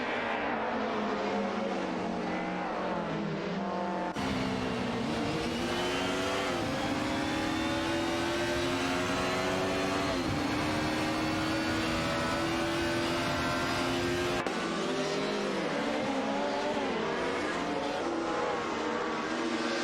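Race cars circling a track in an AI racing game, engines droning steadily at high revs with pitch rising and falling through gear changes, continuous and loud, no speech.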